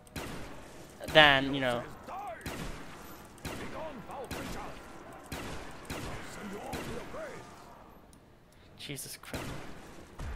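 Weapon fire in the Shangri La zombies map of a Call of Duty-style video game, sharp repeated gunshots in an irregular rhythm, with someone talking over the shooting.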